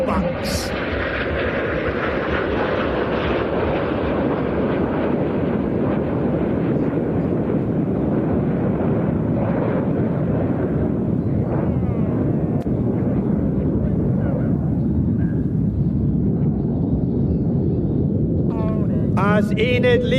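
Red Arrows display jets fly the rollback manoeuvre at the Ayr airshow, a broad continuous jet roar with wind buffeting that stays loud throughout, with a commentator's voice heard over it.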